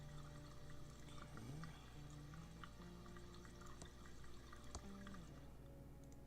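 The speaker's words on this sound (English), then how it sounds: "The glass is now filled with water." Water fills a glass in the point-and-click game Thimbleweed Park: a faint pouring trickle with small drips and a brief rising gurgle, quiet and close.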